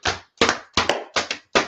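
A class claps in unison, five sharp, evenly spaced claps close up and loud, with brief silence between each.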